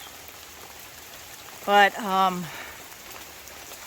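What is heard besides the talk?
rain falling in a mountain garden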